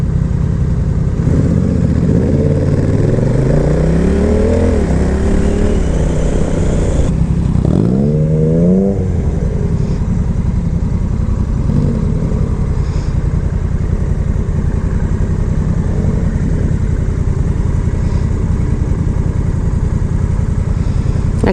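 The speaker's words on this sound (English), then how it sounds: "I'm just in the street. I'm just about to get hit by cars" Cars and other vehicles pass loudly on a nearby street, engines rumbling and revving continuously with a strong pass-by sweep partway through, under steady traffic noise.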